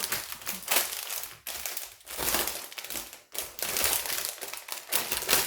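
Plastic zip bag of diamond painting beads being opened and handled, with repeated close, crisp crinkling and crackling bursts in uneven rhythm and no talking.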